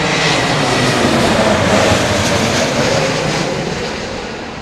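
A Turkish Airlines jet lands in gusty wind at Heathrow, a loud, broad engine roar close by that slowly fades over a few seconds, with no voices.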